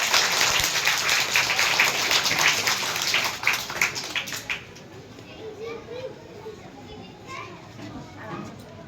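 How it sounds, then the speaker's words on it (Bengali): A room of children applauds a winner at an art school drawing competition, lively clapping for a few seconds that fades into children's chatter and voices. "সবাই হাতে তালি দিয়ে বড় তারিখে শিক্ষা জানাও"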